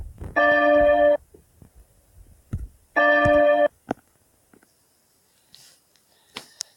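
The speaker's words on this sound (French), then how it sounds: "la cloche 4 va sonner" Chapel bell strikes twice in a game-world church setting, each clear metallic ring lasting under a second and separated by a pause, followed by faint sniffing and small noises.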